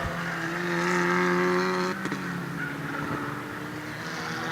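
Volkswagen Ameo Cup race cars entering a left-hander at a bridge section, engines droning with steady harmonic whine that shifts pitch as they pass, sustained and moderately loud.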